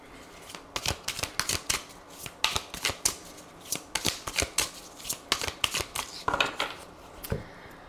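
Tarot cards being shuffled close by, a series of crisp riffling and slapping bursts repeating in an irregular rhythm, with no voices over them.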